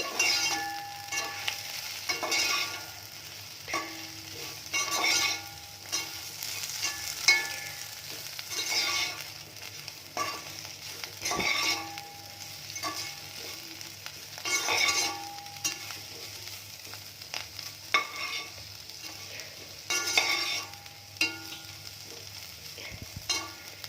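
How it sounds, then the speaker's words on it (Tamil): Steady frying sizzle of raw banana in a pan with repeated scraping and stirring clatter, close and moderately loud, no voices. "வாழைக்காய் நல்லா இறங்குற வரைக்கும் நல்லா ஃப்ரை பண்ணிக்கோங்க."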